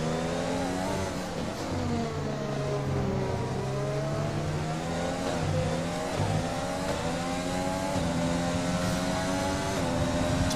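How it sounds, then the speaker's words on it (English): F1 cars from the F1 2020 racing game cornering at the Spanish Grand Prix, several high-pitched engines downshifting and revving back up in overlapping sweeps, loud and continuous throughout. "Corsair also going a little bit too deep into the corner, and Marsh almost losing the tail of the car."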